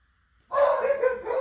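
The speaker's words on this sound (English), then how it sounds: "you can hear my dogs back there" Dogs bark in the background of an indoor room, a short burst of several muffled, moderately distant barks after a quiet start.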